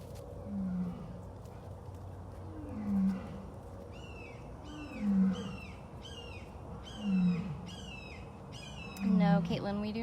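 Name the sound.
big cat roaring at Big Cat Rescue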